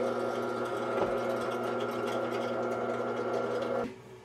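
A steady mechanical whir of a drill press running a 7/64 drill bit continuously with a droning hum, then spinning down abruptly near the end.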